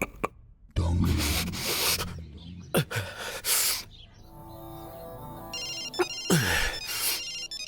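A phone ringtone plays a repeating electronic melody, broken up by rustling and handling noises nearby.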